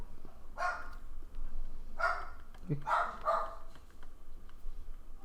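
A dog barks several times in short bursts, fairly close, in a quiet indoor room where people are talking on a podcast.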